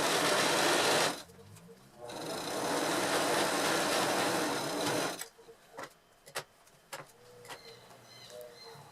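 Sewing machine running a straight seam near the fabric edge at stitch length 2.5 to 3 with a firm backstitch: two loud, steady whirring bursts separated by a brief pause, then quieter clicks and fabric handling.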